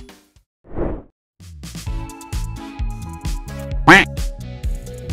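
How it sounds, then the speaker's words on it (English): A duck quacks over lively background music, a short burst of quacks standing out against the melody and a few whooshing effects. "Quack."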